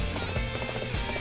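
A horse gallops with quick, steady hoofbeats in the video game Dynasty Warriors 8 XL, a short burst of clip-clop rhythm over a dense game background.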